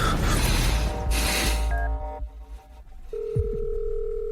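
A telephone is handled and dialed, with a rush of noise and short clicks before a steady electronic tone and brief keypad beeps sound close and clear.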